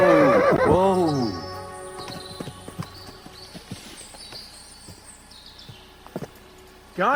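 A loud, quavering whinny opens from a horse in Kingdom Come Deliverance 2, followed by quieter, scattered hoof clops and light ambient sounds, with another burst of sound at the very end.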